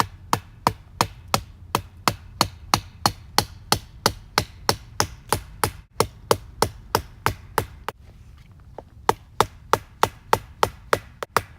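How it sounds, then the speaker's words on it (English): A knife's butt end is struck repeatedly with a maple baton while splitting wood, making sharp, evenly spaced knocks about two or three per second, close and loud, with a short pause before the blows resume. "I'll be batoning here on the butt end of the knife"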